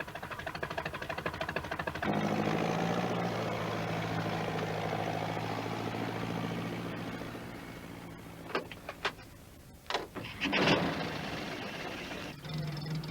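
Alf Thompson's tractor in a Postman Pat cartoon, a steady low engine drone that rumbles on for most of the stretch, joined near the end by a few sharper bursts and clunks as it carries on without any talk.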